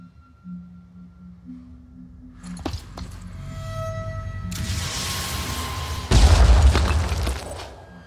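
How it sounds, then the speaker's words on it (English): A rocket launched in the tactical video game Phoenix Point: a rushing, hissing whoosh builds for a few seconds, then a single loud, deep explosion booms and rumbles out, with no talking. "So we're going to send that rocket back over here."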